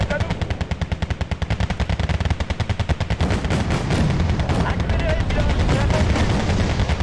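Rapid bursts of 20mm cannon fire from a vehicle in the modern warfare strategy game Wargame: Red Dragon, a loud, fast rhythmic stream of shots for about three seconds that blurs into a dense continuous roar of gunfire and explosions.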